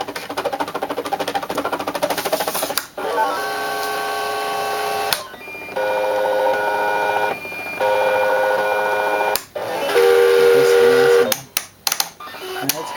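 An eCraft electronic cutting machine runs without a mat, its motor whirring and buzzing steadily in several long passes with brief pauses and sharp clicks between them, loud and close.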